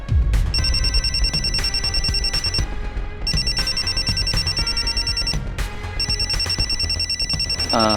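A telephone rings in repeated electronic bursts with short pauses between, loud and close, over a steady musical background.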